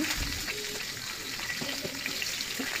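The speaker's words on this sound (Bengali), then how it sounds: "এখন আরও 5 মিনিট সময় নিয়ে মাছগুলোকে ভেজে নিচ্ছি মাঝারি আঁচে।" Rohu fish pieces fry in oil over medium heat, giving a steady close sizzle with soft crackles throughout, no one speaking.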